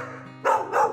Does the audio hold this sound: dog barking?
yes